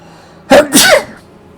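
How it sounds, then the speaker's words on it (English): A single loud, close sneeze in two quick bursts, a sharp intake then the explosive release, against otherwise quiet background. "Oh, I feel like I'm going to sneeze."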